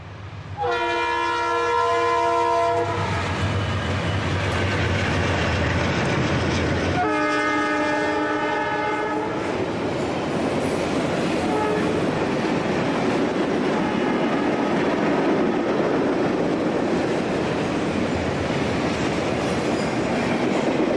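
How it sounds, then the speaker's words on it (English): Conrail eastbound manifest freight from Chicago passes at Oak Harbor. A loud horn sounds twice in long blasts, then a steady rumble and rolling clatter of freight cars continues close by. "A Conrail eastbound manifest from Chicago is next."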